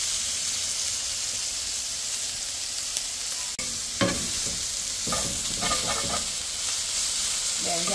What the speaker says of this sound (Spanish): Vamos a freírla un poquito nada más.